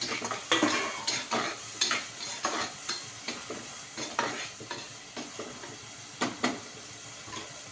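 Onions sizzle in a hot pan while a utensil scrapes and stirs in repeated strokes, with occasional louder clatters against the pan.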